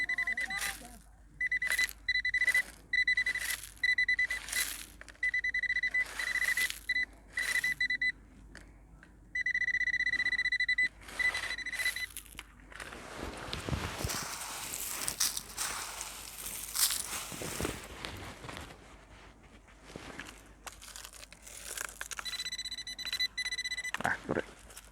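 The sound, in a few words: Nokta Makro Simplex metal detector beeping on wet sand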